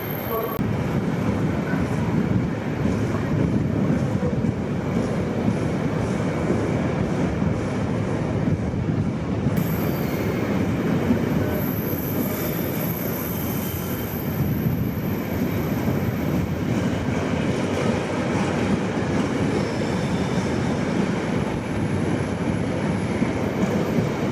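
A train rumbles steadily through a railway station on a Transpennine route, a continuous near roar of wheels and carriages lasting throughout, with a faint station announcement voice underneath.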